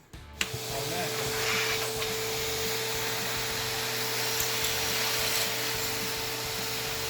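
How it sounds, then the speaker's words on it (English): A vacuum cleaner switches on with a thump and runs steadily, a loud, even roaring whine that continues to the end. "Now I'll show you with the vacuum."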